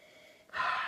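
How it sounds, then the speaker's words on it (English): A short inhale through the nose while sniffing a Brewdog Dead Pony Club beer, quiet at first and then a sharp, breathy sniff that swells and holds for a moment. "let's give it a little bit of a sniff"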